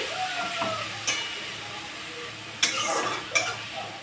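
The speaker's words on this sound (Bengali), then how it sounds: "দিয়ে এবার পেঁয়াজটা একটু ভাজা ভাজা করে নিচ্ছি।" Chopped onion fries in oil for a koi fish curry, giving a soft, steady sizzle at moderate level with a few sharp spoon-on-pan clinks and stirring scrapes.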